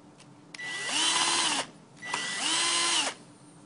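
Power drill driving screws into the brackets of a rolling cubicle panel, heard as two close, steady whirring bursts of about a second each with a short pause between them and no talk.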